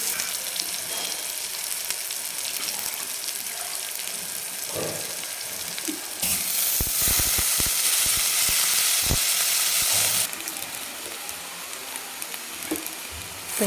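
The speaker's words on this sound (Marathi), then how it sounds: "आपण आता याच्यामध्ये भाजी टाकून घेते लगेच" Vegetables tossed into a hot pan with dal and turmeric, a steady loud sizzle and frying hiss that swells as they hit the oil, with stirring clatter and scraping underneath.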